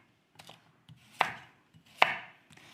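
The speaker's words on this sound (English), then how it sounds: "And I'll be chopping more." Carrots and other vegetables for a mirepoix are chopped with a knife on a cutting board, a few sharp, close, well-spaced knocks with light scraping between them and no talk.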